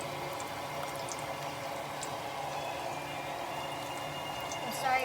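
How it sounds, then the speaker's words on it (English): Steady, soft crackling and bubbling of shrimp and scallop cake batter dolloped into hot oil in cast iron, a continuous low sizzle with no talking. "I'm just going to do like dollops of it into the frying oil, into the hot oil"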